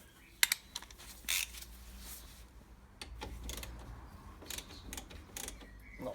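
Small 10 mm nuts and bolts on a Lancia Delta Integrale Evo2 front brake caliper being snugged up with a wrench, giving light metallic clicks, ratchety taps and brief scrapes in a quiet workshop, with a few sharper knocks near the start.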